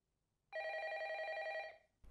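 A telephone bell rings in the 1998 Japanese horror film Ring, one loud steady electronic trill lasting about a second after a short quiet lead-in, then cutting off.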